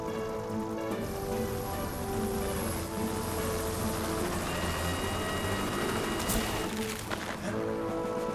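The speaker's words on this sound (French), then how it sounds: "Mais on va avoir besoin du renfort de l'hélicoptère." A cartoon rescue helicopter from Fireman Sam hovers close by with a steady, loud rotor thrum and engine whine that stays constant throughout.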